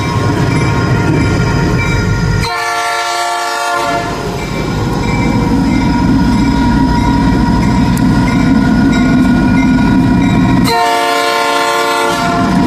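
A train rolls along the rails with a loud, continuous rumble and clatter, close by, broken twice by long blasts of the train horn.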